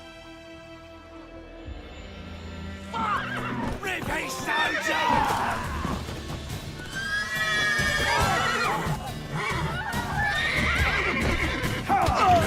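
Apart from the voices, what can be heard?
horses neighing and hooves, video game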